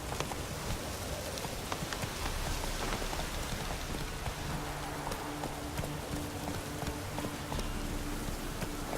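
Steady rain falls in The Witcher 3, a dense, even patter filling the whole scene, with faint horse hooves clopping underneath and no voices.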